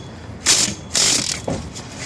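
An impact wrench on a 19 mm fuel line fitting of a 1988 Mercedes E 300 gives two short, loud bursts of hammering, then a quicker, fainter third burst, each ending abruptly.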